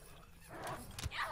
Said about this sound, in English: Watch for an enemy guard dog.